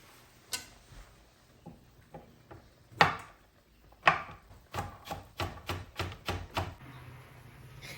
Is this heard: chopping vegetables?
yes